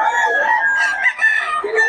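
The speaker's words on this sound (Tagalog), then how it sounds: "gaganda ng mga manok ni Boss Batang" Roosters offered for sale at a Bocaue, Bulacan flea market, one crowing loudly and close with a long drawn-out call, amid clucking and market bustle.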